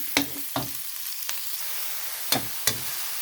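Squid and pork fry in a hot pan with a soft, constant sizzle, broken by several sharp stirring clacks at uneven intervals, close by and with no talking.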